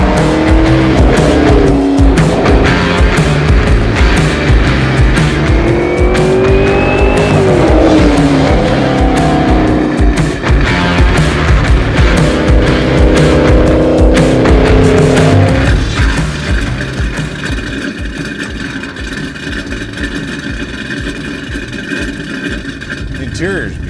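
The Eleanor Mustang, the car from Gone in 60 Seconds, is driven hard with loud tire squeal and skidding over a roaring engine whose pitch sweeps up and down, then settles into a lower, steadier drone near the end.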